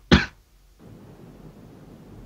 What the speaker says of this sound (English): That was a genuine cough.